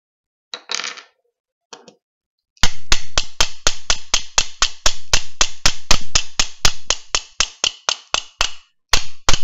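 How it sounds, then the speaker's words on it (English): Colt revolver frame tapped with a rubber handle, a rapid run of sharp metallic knocks in quick succession after a few light scuffs, close and crisp with short gaps near the end. "Just tap the side of the frame right here."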